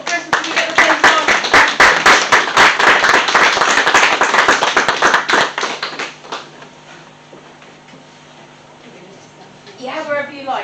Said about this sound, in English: we have a round of applause for Sophie from Maggie's